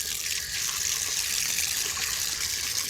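Water poured or running from a tap to wash items that had become dirty with dust, a steady close splashing trickle that continues throughout with no talk.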